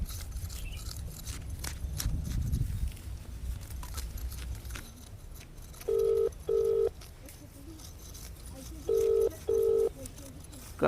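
Four short electronic dial tones, two quick pairs a few seconds apart, sound over a low rumbling background with faint shuffling.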